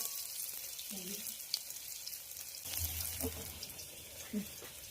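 Shallots with salt frying in coconut oil make a soft, steady sizzle and crackle close by, with faint stirring knocks and a brief low voice partway through.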